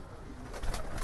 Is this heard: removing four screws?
no